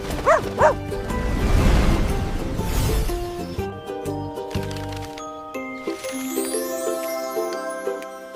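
A couple of quick, cartoonish dog barks at the start, followed by tinkling, jingly musical tones.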